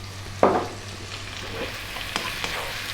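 Chopped onion sizzles and fries in a hot pan, a steady hiss broken by a few sharp scrapes and clatters as it is stirred constantly.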